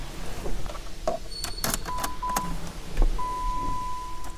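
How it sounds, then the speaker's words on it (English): Electric window motor whirring on a 2011 Jeep Liberty Sport, a steady mechanical hum from inside the car with a few faint clicks and thumps around it. "This Sport has keyless entry, power windows, locks,"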